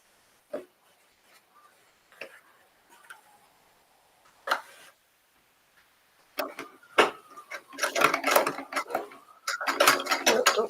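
Sewing machine running rolled hems, a few isolated mechanical clicks first, then bursts of rapid rattling stitching that grow louder and more continuous, close to the microphone.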